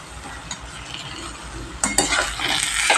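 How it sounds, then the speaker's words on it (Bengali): Papaya curry (ghonto) being stirred with ghee in a pan: soft, steady sizzling at first, then louder scraping and clinks of a metal spoon against the pan, close up. "এবার ঘি দিয়ে এই পেঁপেটাকে ভালো করে আমি একটু নেড়ে নিলাম।"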